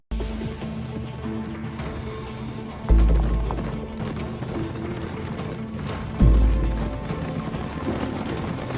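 A horse gallops fast through a forest, its hooves clattering in a steady rhythmic beat beneath layered music, with two heavy thuds breaking in partway through.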